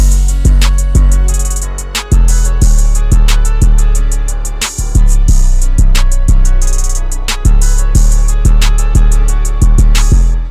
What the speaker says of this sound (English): so I layered an open hat on top of some of the 808 notes.